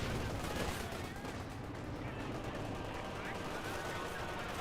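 Battle gunfire from Company of Heroes 2, with dense overlapping bursts of small-arms and machine-gun fire. The shooting continues without a break at moderate distance, forming a busy, fairly quiet wash.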